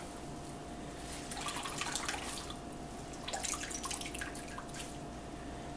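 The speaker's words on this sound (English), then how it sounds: "that water is running fairly clean now" A tap runs while grated potato is squeezed and rinsed for starch, a faint steady stream with a few louder splashing bursts into a bowl, and nobody talks.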